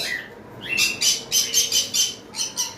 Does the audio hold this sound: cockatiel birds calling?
yes